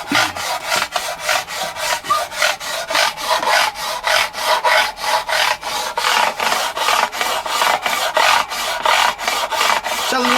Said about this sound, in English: I'm just levelling the frets that were levelled